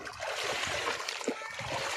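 Water splashes and sloshes steadily while dried tamban fish are rinsed by hand in fresh water, with close, continuous churning and no clear speech.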